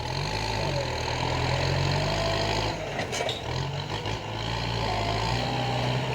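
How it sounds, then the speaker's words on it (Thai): A heavy tractor engine drones steadily at close range, labouring under load while pushing, with a short dip and rattle midway before the drone resumes. "รถไถออกแรงหนักหน่อยครับ"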